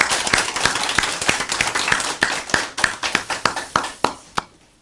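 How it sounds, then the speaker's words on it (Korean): A church congregation applauds together, a dense burst of many hands clapping at close range that thins out toward the end into a few scattered claps. "여러분 박수로 한번 격려도 하고"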